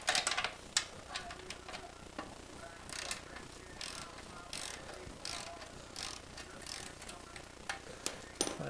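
A tool loosening a motorcycle exhaust clamp during a slip-on exhaust install, heard as a string of close, sharp ratcheting clicks in an irregular rhythm with a few louder snaps, no talk.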